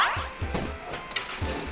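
Cartoonish dog barks and yips from the platformer video game Jubilee, several short bursts in an uneven rhythm over a bright, busy game soundtrack, fairly close and clear.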